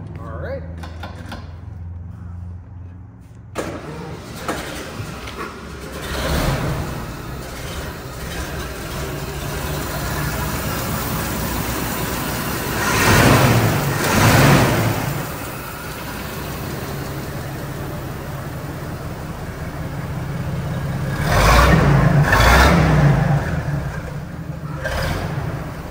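A 1925 Rolls-Royce Springfield Silver Ghost engine cranks and catches after a quiet start, then runs steadily with two swelling revs, under frequent speech from people nearby.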